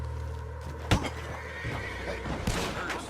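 A horse in the video game Red Dead Redemption 2 gives a sharp, loud whinny, with hoof clip-clops and game ambience around it and a second, fainter neigh shortly after.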